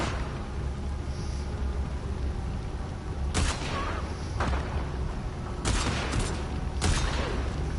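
Rapid video game gunfire from a civil war shooter, with a sustained rattle of shots and several loud, sharp bursts standing out near the end.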